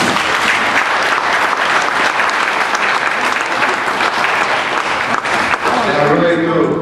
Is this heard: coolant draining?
no